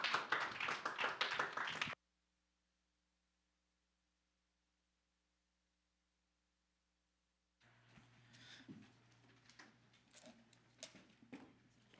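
A church congregation at a Korean Sunday worship service claps: a short burst of dense applause, then silence, then scattered, lighter claps and taps that grow irregular toward the end.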